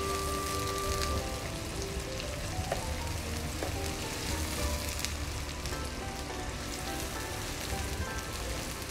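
Onions fry in a pan on a stove turned down to medium for a Hyderabadi baghare baingan, a steady close sizzle and crackle with a few faint clinks, continuous and fairly quiet with no talking.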